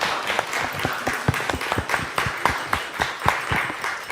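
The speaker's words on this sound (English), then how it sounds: "Let's do that applause." A live Q&A audience applauds steadily for about four seconds, many hands clapping densely with a few sharper individual claps standing out, no voices on top.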